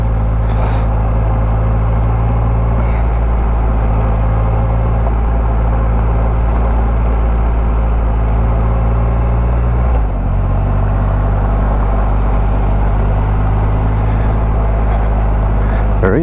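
A Triumph Rocket 3 R motorcycle cruises an Australian road, its deep engine drone steady and loud under constant wind rush, with a brief dip in tone partway through as the rider shifts.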